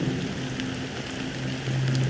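Steady rain falls in the video game Honkai Star Rail, an even, continuous patter of drops on a surface with a low hum beneath it, alone and fairly close throughout.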